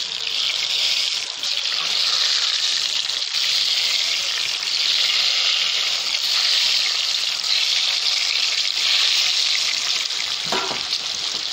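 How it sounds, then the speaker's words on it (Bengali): An egg fries in a pan, giving a continuous loud, close sizzling hiss that holds steady for the whole stretch with occasional faint stirring scrapes and no talk. "এবার আমি ডিমটা ভেজে নেব।"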